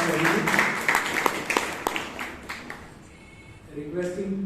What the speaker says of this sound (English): A big round of applause to Toastmaster Abhijit.